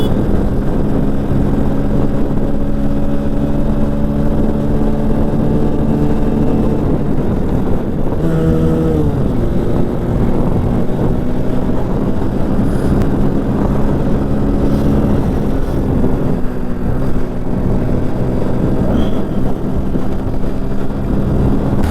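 A Hero Splendor Plus i3S motorcycle runs hard toward top speed on the road, a steady droning engine note with a brief gear-change dip partway, buried under heavy wind rush at the microphone, with no voices.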